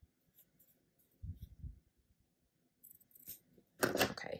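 Scissors trimming the fabric edges of a pinwheel star quilt block unit: a few soft snips and slides near the start, then a louder, close crunchy cut near the end, alone in a quiet room.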